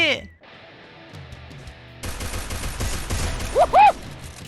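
Rapid bursts of gunfire from a powerful weapon in the Free Fire mobile battle royale game, loud and dense over the second half, with a player talking excitedly over it.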